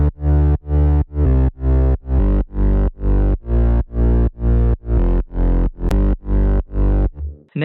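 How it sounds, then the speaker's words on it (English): Layered synth bass from a remake, a deep sub under a gritty harmonic-rich bass layer, pumping in steady rhythmic notes about twice a second, loud and alone with no talk. "Together the sub and the bass sound like this."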